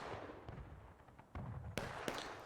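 Cannon fire from an LFL artillery piece in a battle video game, a string of faint, distant booms and cracks with a couple of sharper reports toward the end.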